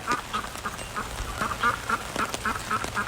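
Pekin ducks quacking outdoors in rainy Virginia Beach weather, a steady run of repeated nasal quacks at close range over the patter of rain, with no talk.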